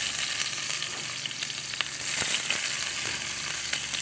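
Garlic and onion sauté in hot oil for a siopao asado filling, a steady close sizzle and crackle with faint stirring scrapes and no voices.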